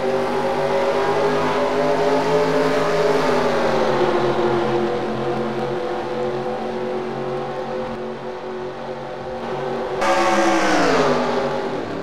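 Race cars roar away on a restart in a NASCAR SEGA Cup Series video game at Aaron's 499, a sustained loud engine drone with pitch dipping and climbing as they accelerate, then a fresh surge of revving near the end.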